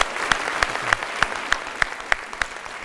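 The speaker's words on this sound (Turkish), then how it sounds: "Bence bunun için ayrıca bir alkış da gerekir." Studio audience on a Turkish quiz show clapping in a steady, unified rhythm, sharp claps about every third of a second, close and fairly loud with no voices over it.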